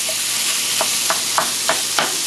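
Pork sizzles loudly in a pan for Vietnamese rice porridge, a dense constant hiss up close with a few soft scraping strokes of stirring about every third of a second, and no voices.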